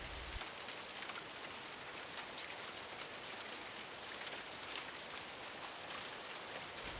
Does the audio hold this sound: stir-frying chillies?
no